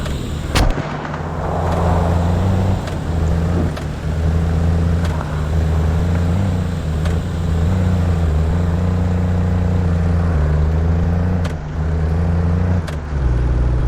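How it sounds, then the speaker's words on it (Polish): A car speeding in a video game, with a loud, steady engine drone and several sharp cracks, close and mostly without speech. "O, to auto jedzie szybko."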